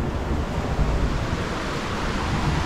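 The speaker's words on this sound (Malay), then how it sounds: "Bunyi ombak." Ocean surf rolls in steadily as a continuous, even wash of broadband noise on a rainy evening by the coast, with no clear breaks between waves and no voices.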